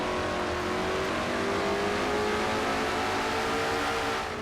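A Ford stock car engine in an oval racing game holds high revs around 9,100 RPM going into a turn. It is a loud, steady, buzzing drone with a slight rising pitch throughout.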